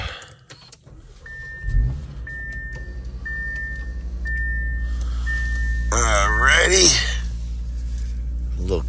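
A 2024 Audi RS3 being fired up on a chilly day: a brief starter whirr, then the engine catches with a sharp rev flare and settles into a steady near idle, with chimes beforehand and a voice over the start.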